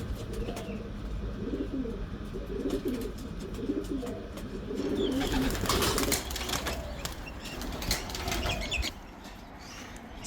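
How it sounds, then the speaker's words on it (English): A racing pigeon arriving home after a 350 km race, with low soft cooing from birds in the loft, then a burst of wing flapping and scuffling close by, and faint voices now and then. "This is pigeon number 2."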